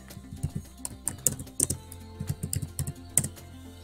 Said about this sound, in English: go to search bar and type PowerPoint.